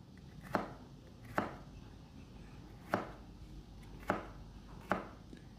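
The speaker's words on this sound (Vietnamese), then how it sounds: "Mình xào thì mình sắc mỏng mỏng thôi" A knife slices a bitter gourd thinly on a cutting board for a vegetarian stir-fry. Five distinct, fairly quiet chops land at an unhurried, slightly irregular pace, each a sharp knock against a low background hiss.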